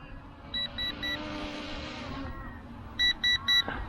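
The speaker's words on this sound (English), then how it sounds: "You hear a long beep." A ZD012 GPS brushless drone gives short high electronic beeps, one group of three early and another group of three near the end, over a low steady background hum outdoors.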